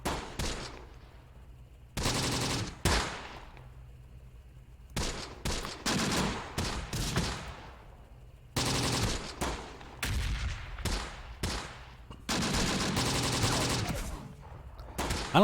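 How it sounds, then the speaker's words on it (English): Airstrike strafing in the Close Combat: The Bloody First wartime game, heard as several loud bursts of rapid gunfire separated by short quiet gaps. "Oh, there's the airstrike, and we didn't hit anybody."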